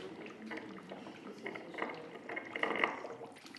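HHO gas flame burning underwater from a small nozzle, heard as a continuous, fairly faint bubbling and gurgling with small pops, rising slightly toward the end.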